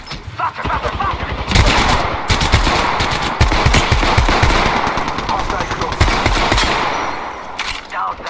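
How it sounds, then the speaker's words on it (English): Enemy automatic gunfire in Apex Legends, loud rapid machine-gun bursts crackling in long overlapping volleys for several seconds, tapering off toward the end. "The enemies are shooting at me."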